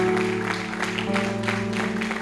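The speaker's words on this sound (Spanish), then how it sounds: "Dale un fuerte aplauso a nuestro Dios" Congregation clapping during a Spanish-language church service, moderately loud, with sustained held keyboard or organ tones running underneath the whole time.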